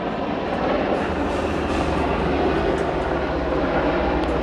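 Airplanes flying overhead during maneuvers, circling the area, make a steady, continuous engine drone that holds at an even loudness throughout, with no talking.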